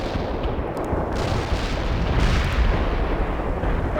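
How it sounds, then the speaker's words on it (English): A World in Conflict artillery barrage thunders as a dense, continuous rumble of overlapping booms and blasts, loud and unbroken throughout. "Artillery strike on the way."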